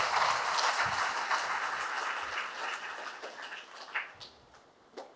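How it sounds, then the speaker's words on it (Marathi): Dense applause from a church congregation for Father Linus during a novena Mass at Our Lady of Fatima Church, Chulne, a steady wash of many hands that slowly thins toward the end. "फादर लिनससाठी जोरदार टाळ्या मारून त्यांचं अभिनंदन करूया"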